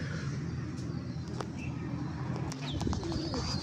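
Paired slate-grey pigeons cooing close by in a loft, soft low coos running steadily with faint chirps and distant background noise, no talking.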